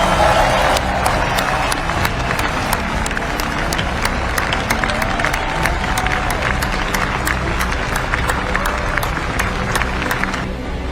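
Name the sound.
applause for the B-21 Raider team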